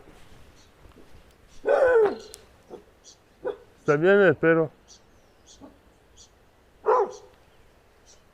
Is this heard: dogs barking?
yes